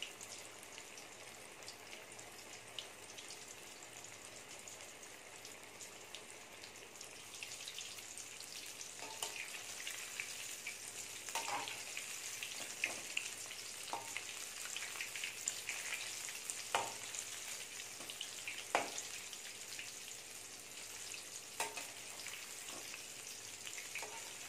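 Chicken 65 coated with rice flour frying in hot oil, a continuous soft sizzle and bubbling with occasional crackles and pops rising slightly as it goes on, close and fairly quiet with no talking.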